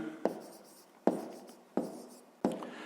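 Pen or chalk writes down answers for a fifth-grade math exercise, in four short distinct strokes spaced about a second apart, close and fairly quiet.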